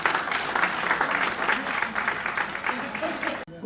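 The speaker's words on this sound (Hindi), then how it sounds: "एक बार जोरदार तालियां हो जाएं" An audience at a cultural awards ceremony breaks into loud, sustained applause, a dense crackle of many hands clapping close by that cuts off abruptly near the end.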